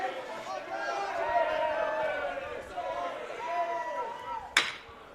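Crowd noise at a high school baseball tournament game, a steady rumble of many voices with rising cheers and shouts, loud and continuous, ending with a sharp crack.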